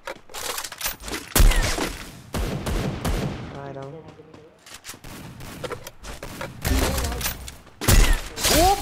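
Bursts of gunfire from the mobile shooter Garena Free Fire during a Clash Squad match crackle in rapid loud volleys, broken by short pauses and game effects, with a player's excited voice talking over the action.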